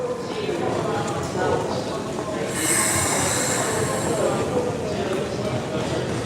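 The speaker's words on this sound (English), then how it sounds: "after this train departs" A train departs from a platform at Yokohama Station with a rolling rumble and rhythmic wheel clatter, rising into a high screech of squealing wheels midway, while people talk nearby.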